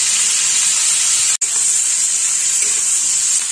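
Onion and capsicum sauté in a hot pan, giving a steady bright hiss and sizzle that carries on evenly apart from one split-second dropout.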